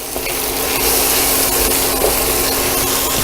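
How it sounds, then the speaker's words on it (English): Onions go into a hot pan with bacon and sizzle loudly and continuously, with a broad frying hiss and occasional stirring scrapes close by. "Now, time for the onions to go in."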